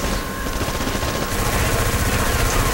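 Uzi submachine gun fire in the shooter video game Black, a dense continuous burst of rapid automatic shots, loud and close, running without pause.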